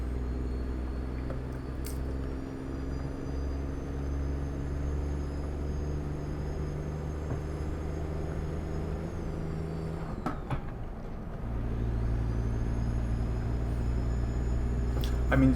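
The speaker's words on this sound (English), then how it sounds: "the truck just sounds so good" A Peterbilt 389 truck with a Detroit Diesel Series 60 engine, driven in Texas in a trucking video game, drones with a loud, steady low diesel note; it briefly drops off midway before returning slightly louder and sustained.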